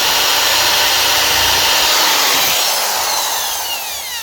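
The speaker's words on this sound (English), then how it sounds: "We need to get one of our pilot holes drilled nicely." A power drill whines loudly and steadily, close up, its pitch shifting slightly as it bores pilot holes in a Les Paul guitar before winding down near the end.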